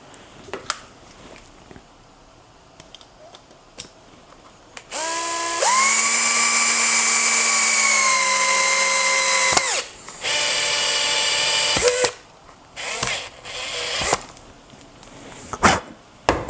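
A power driver sinks a self-tapping screw into the head of a handmade cane, first a few faint clicks, then a sustained high whining motor run of several seconds, a brief pause, and a second shorter burst, close and loud.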